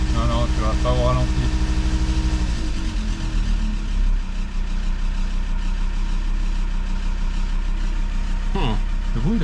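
An engine runs steadily at a low, humming idle while its injection pump timing is set, with a slight change in tone partway through. Brief voices can be heard over the engine.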